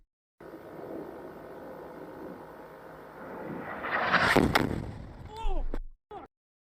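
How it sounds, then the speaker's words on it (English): A 500 lb bomb dropped by a pilot on a friendly position, heard as a rising whistle through the air that swells over a low aircraft drone, followed by a loud blast and a couple of sharp bursts before cutting off. "You hear the bomb ripping through the air."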